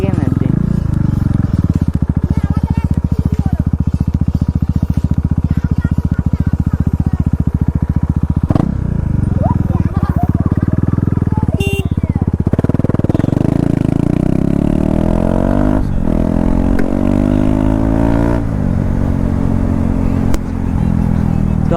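KTM RC 390 BS4 motorcycle with no exhaust fitted, revving loud and close in repeated rising and falling bursts, its raw rasping roar dominating while people talk around it.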